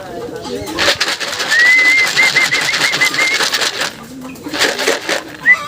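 Racing pigeons arriving at the loft after a 53 km flight bring coos and fluttering, with a thin whistle and people talking excitedly close by throughout.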